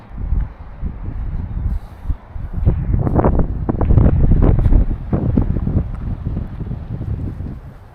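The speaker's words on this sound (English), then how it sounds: "the wind's dying down a little bit" Wind gusts across a coastal path near Dunbar, rumbling loud and close against the microphone in uneven surges with a steady low roar.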